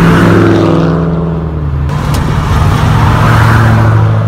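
A yellow Ford Mustang at a car cruise rumbles loudly nearby, a deep continuous engine drone that rises slightly as it drives past, with no talking.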